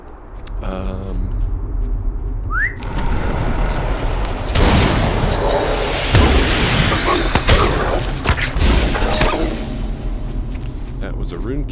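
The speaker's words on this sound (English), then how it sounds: "That was a rune keeper next to us with all his fireworks." Rune-keeper fireworks in the Lord of the Rings Online video game go off as a run of loud booming, crackling bursts that start near the middle and repeat irregularly over busy game ambience.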